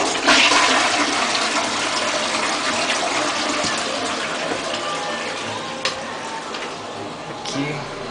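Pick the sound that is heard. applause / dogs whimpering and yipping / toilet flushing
toilet flushing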